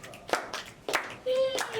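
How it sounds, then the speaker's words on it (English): An audience at a poetry slam snaps and claps in a few scattered bursts, brief and fairly close, with a little voice mixed in. "Give yourselves a round of snaps and claps."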